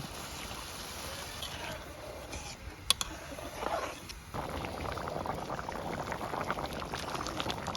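Dal lentils simmer in a cooking pot with a continuous soft bubbling that is steady and close, with a couple of brief clinks partway through and no talking.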